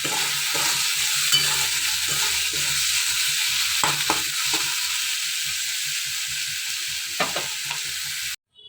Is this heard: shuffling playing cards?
no